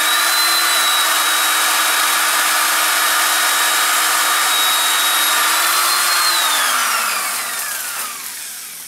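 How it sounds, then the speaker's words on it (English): A power drill whines at a steady high pitch, close and loud, then its motor slows and winds down near the end. "This drill's hot."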